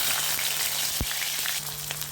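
Hot oil sizzles and crackles steadily as onion fries in a kadhai, with a few sharp pops and a low hum underneath.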